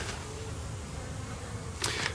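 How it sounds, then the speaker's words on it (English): Bees buzz around a home garden, a continuous soft drone at moderate distance with a brief closer pass of a single insect near the end, no voices. "I've got lots of bees, and they are keeping me very busy"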